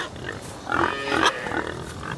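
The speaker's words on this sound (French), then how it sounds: "Au loin, les cochons grognent." Pigs grunt in a few rough, throaty bursts, moderately close, with a low background hum between them.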